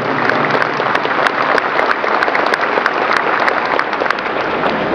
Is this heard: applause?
yes